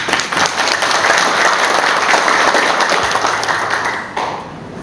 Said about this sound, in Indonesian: Tolong tepuk tangan dulu.